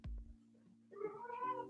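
A pet cat meows indoors, a drawn-out, wavering cry that rises and wobbles near the end, close and fairly quiet, following a low bump and a steady faint hum in the room.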